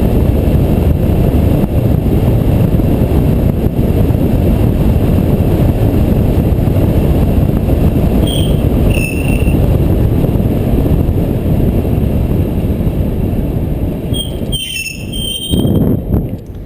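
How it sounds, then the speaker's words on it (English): A Cannondale SuperSix EVO road bike with Dura Ace Di2 brakes on wheels fitted with XLF2 pads, the front still bedding in, rolls under heavy wind rush, with high brake squeals sounding near the middle and again toward the end. "there is a lot of noise and squeal that comes off these wheels, particularly the front, which is still bedding in"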